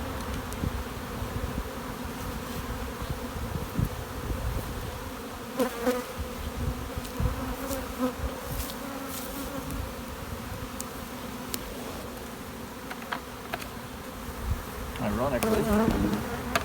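Honey bees buzz steadily around hive frames in a newly split colony, a dense, continuous close drone with individual bees flying near and away.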